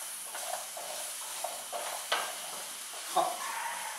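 Butternut squash cooks in a pan over a low flame, giving a soft, steady sizzle broken by a few light stirring scrapes and clicks.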